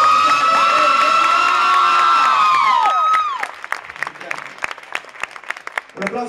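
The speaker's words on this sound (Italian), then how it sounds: "Un applauso ancora più forte!" Crowd applause and cheering at an outdoor concert tour stop in Colle Sannita, loud and dense with shouts and whoops for about three seconds, then thinning into scattered claps and cheers.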